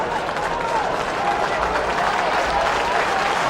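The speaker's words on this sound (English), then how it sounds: "We might hear some applause coming through the effects microphone." Stadium crowd at an Australian football match between Geelong and Melbourne, applauding a player coming off the ground: a broad, steady roar of clapping and cheering from a distant, large crowd, continuous throughout, with commentary talk over it.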